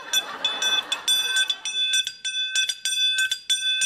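A bell rings out in a series of bright, sustained strikes played in a tune, clear and close, with some faint noise at the start.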